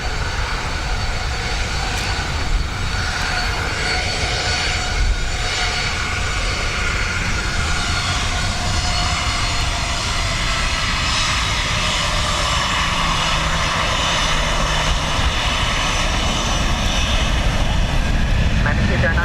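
A plane takes off from runway 10 right at Dublin Airport on a windy, wet day, a loud, continuous engine roar holding steady throughout, with radio chatter beneath it.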